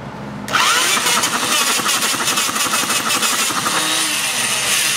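A Mini Hog 69 engine catches after being spun over and fires into a loud, close, rough running sound, with an uneven, pulsing beat that suggests it is firing on only one cylinder.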